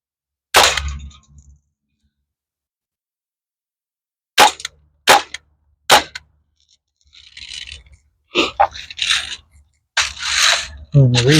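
Crosman M1 full-auto air rifle fired at a can at close range, several sharp isolated cracks with a metallic ring of impact and short bursts, separated by quiet gaps.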